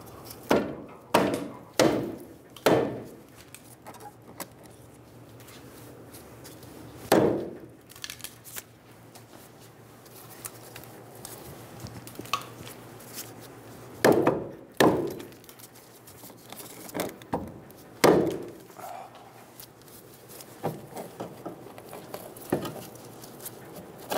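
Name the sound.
hammer hitting a Ford Focus steering knuckle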